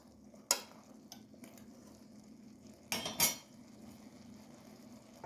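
A metal spoon clinks sharply against a pressure cooker twice, once briefly and once in a longer scraping burst, while stirring salt into a spiced masala of brinjal, pigeon pea beans and tomato, with a quiet room hum between strokes.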